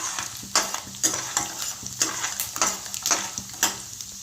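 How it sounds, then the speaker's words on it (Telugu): Peanuts and urad dal sizzle in hot oil in a pan for tomato rice, a steady crackling fry broken by regular scraping stirs about every half second. "ఇప్పుడైతే వేగిపోయాయి పల్లీలు అండ్ ఉద్దిపప్పు"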